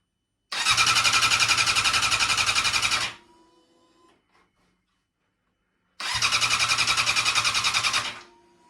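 A Yamaha R6 motorcycle engine cranks on its first start without catching, likely for lack of fuel: two loud, even bursts of rapid starter chugging, each about two and a half seconds long, separated by a few seconds of silence.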